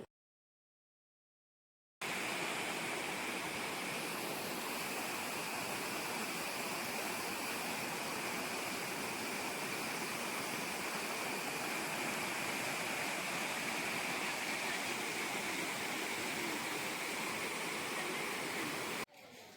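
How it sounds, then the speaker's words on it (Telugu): A waterfall at the Edupayala Vana Durga Bhavani temple roars as a dense, unbroken wash of rushing water, loud and steady after a short silent start, with no voices. "మేము వాటర్ ఫాల్స్ దగ్గరికి అయితే వచ్చేసినాము ఆ సౌండ్ వింటుంటేనే ఎట్లా అనిపిస్తుంది తెలుసా"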